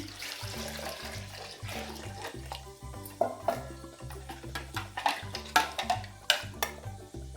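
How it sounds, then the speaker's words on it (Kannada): Water poured into a pot of taro-leaf sambar with vegetables, a continuous splashing pour with sharper spattering bursts toward the end, fairly quiet, no voices. "ನೀರು ಸೇರಿಸ್ತಾ ಇದ್ದೀನಿ."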